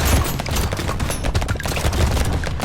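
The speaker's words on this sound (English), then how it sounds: "At least the shotgun's helping clear him out somewhat" A shotgun fires repeatedly in the Brotato video game, a loud, dense rattle of rapid shots and impacts packed together with no break, up close and without speech.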